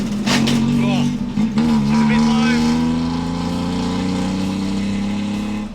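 A Daihatsu race car with a budget straight-through muffler exhaust and no tune drives along, its engine droning loud and close with a steady, buzzy tone and slight pitch shifts, and a voice faintly under it.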